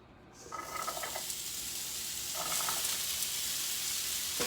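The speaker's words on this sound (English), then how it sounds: "Listen to that sizzle." Carrots hit a hot stone pan and a steady sizzle builds and holds, with a couple of brief scraping stirs near the start and midway.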